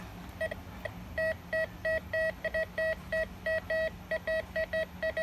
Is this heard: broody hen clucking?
no